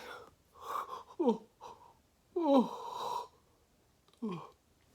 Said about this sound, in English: yawning hurts a lot